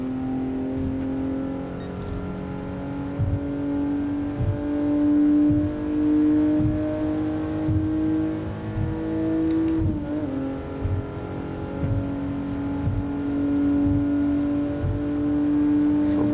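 A 1967 Toyota 2000GT engine in Gran Turismo Sport drones steadily under load for about sixteen seconds. Its pitch climbs and dips with the throttle, then drops sharply around a downshift before revving back up. No voices are heard.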